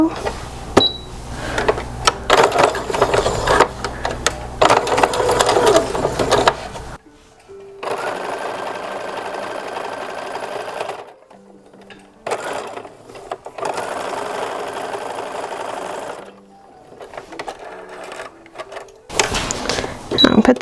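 A sewing machine stitches the shoulder seams of a 1930s-1940s style infant slip in several bursts of rapid whirring separated by pauses, with someone talking between and over the runs.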